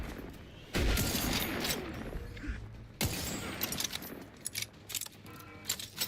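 Turret gunfire in The Outer Worlds 2, heard as sharp bursts and scattered shots with mechanical clatter, moderately loud against a busy game backdrop.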